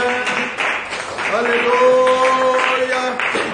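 A church congregation applauds during a Sunday service, a steady wash of clapping that fills the room for several seconds, with voices and calls of praise rising over it.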